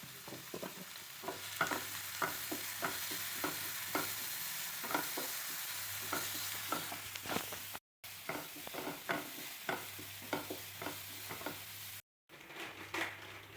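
Chopped ingredients frying in hot oil in a pan, a steady close sizzle broken by regular scraping stirs, with no talk.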